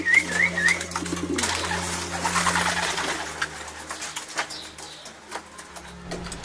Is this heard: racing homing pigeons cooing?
yes